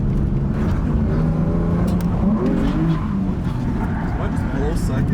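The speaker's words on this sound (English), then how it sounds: "Artem's about to experience drifting on track for the first time." A drift car runs on a track with a steady engine drone and some tire noise. Voices talk over it throughout.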